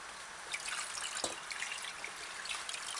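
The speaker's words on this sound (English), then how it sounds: "It's best if you do this part on the fresh running water." Fresh tap water runs steadily over rice being rinsed by hand, a soft continuous hiss of splashing and trickling with a few small drips, quiet and close, with no voices.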